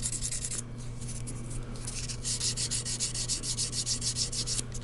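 Sandpaper rubs steadily against a guitar nut during refret shaping, a continuous close scratchy hiss with rhythmic back-and-forth strokes that grow more pronounced halfway through, under a low steady hum and with no talking.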